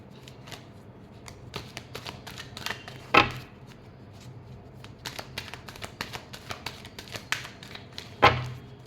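Tarot cards being shuffled by hand, a run of soft riffling flicks and taps up close with two sharper bursts, fairly quiet and with no talk.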